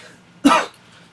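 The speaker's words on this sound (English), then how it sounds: "Sorry I had to cut that. I was coughing." A single sharp cough, close and fairly loud, bursting out of near silence and fading after about a quarter second.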